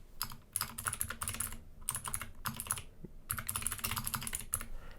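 Typing on a computer keyboard, close and clear, in quick bursts of keystrokes separated by short pauses, with no voice over it.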